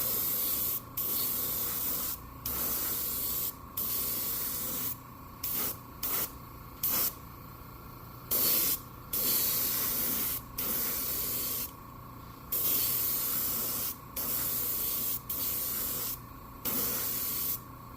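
An airbrush sprays coats of paint onto a glide fishing lure, hissing close and steady in a long series of bursts separated by brief pauses.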